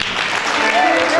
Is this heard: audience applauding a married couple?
yes